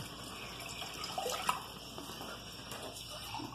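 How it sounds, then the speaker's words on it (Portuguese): Water pours steadily into a pot for making polenta, a soft, continuous splashing stream heard close by at low volume, with no voices. "Deixa eu colocar água aqui, né?"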